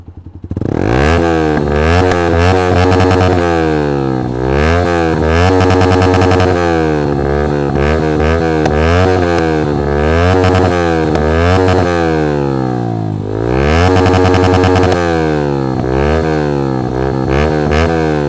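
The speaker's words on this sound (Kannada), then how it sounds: "ಇದ್ರದ್ದು ಫುಲ್ ರೆವ್ ಮಾಡಿ ತೋರಿಸ್ತೀನಿ ಇದ್ರದ್ದು ಸೌಂಡ್ ಎಷ್ಟಿದೆ ಅಂತ" A modified Yamaha MT15 motorcycle with an aftermarket exhaust revved hard at full throttle, loud and close, its engine note rising and falling through repeated sweeping revs with a raspy, buzzing tone for the whole stretch.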